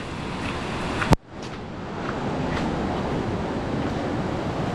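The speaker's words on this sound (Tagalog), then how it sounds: "Ang lakas ng agos ng tubig." A loud, continuous rush of a strong water current roars steadily at Coto Mines, Masinloc, Zambales, broken near the start by a sharp click and momentary dropout, with wind buffeting the microphone.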